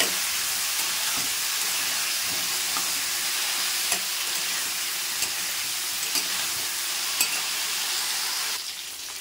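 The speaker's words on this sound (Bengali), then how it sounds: "তো দেখো ফুলকপিগুলো কিন্তু আমি ভালো করে লাল লাল করে ভেজে নিয়েছি" Cauliflower pieces, already turmeric- and salt-seasoned, frying to a deep red in a pan, giving a steady close sizzle with occasional soft stirring clicks and no voices.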